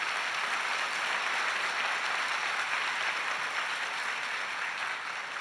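A church congregation breaks into sustained applause during a morning service, a thick, even roar of many clapping hands that fades slightly at the end, with no talking.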